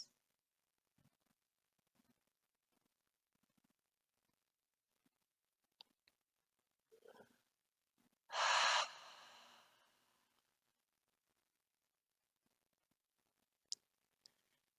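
A long open-mouth exhale during a relaxing yoga session on a blanket, one loud breathy rush of air lasting about two seconds, preceded by softer breaths and faint rustles in an otherwise quiet room.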